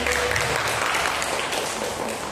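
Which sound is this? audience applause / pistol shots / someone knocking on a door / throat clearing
audience applause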